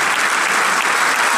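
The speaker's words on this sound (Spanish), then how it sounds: "Despedimos entonces con un nuevo aplauso a Fabián y Pablo Romero Vázquez." Applause from an audience at a folk music anniversary concert for the Peñihuen ensemble, a dense, steady clapping that fills the whole moment without any talk over it.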